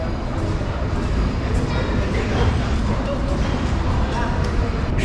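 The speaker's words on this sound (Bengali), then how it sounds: "8:17-তে এই ট্রেন যাত্রা শুরু করলাম আজকে" The Sundarban Express train, departing Kamalapur station in Dhaka, rumbles steadily along the rails, a continuous low roar with faint rattling, loud and close throughout.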